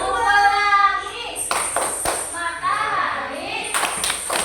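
A primary school class does the rhythmic 'tepuk pelangi' rainbow clapping chant, with sharp group claps punctuating children's chanted voices and a teacher speaking at the start.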